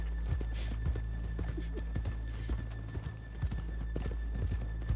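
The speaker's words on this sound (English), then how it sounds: "Horses in the back." Horse hooves clip-clop in an uneven, steady patter in the background throughout, with a low constant hum beneath.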